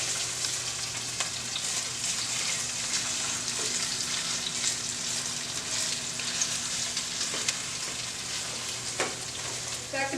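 Garlic and onion fry in a pan, a steady close sizzle with occasional stirring clatter and faint water sounds, no talking.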